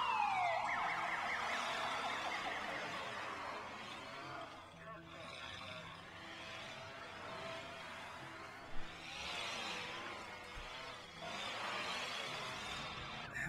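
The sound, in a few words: police car sirens in SimCity video game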